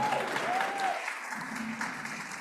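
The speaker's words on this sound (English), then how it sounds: "Let's give an applause to our upper school strings quartet" Applause from an audience at a school event for an upper school string quartet, steady clapping throughout at moderate loudness, no voices over it.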